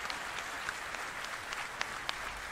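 Applause from the TennoCon 2023 audience for the DE team: a steady, fairly soft wash of many hands clapping, with a few sharper claps standing out.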